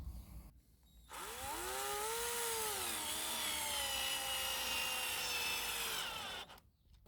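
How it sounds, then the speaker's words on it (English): A power drill whines steadily for about five seconds while driving screws into a wooden lid hinge, the motor pitch rising and then holding, close and loud, with quiet pauses before and after. "So I'll put some screws in here, or straighten it up a little bit as I do it"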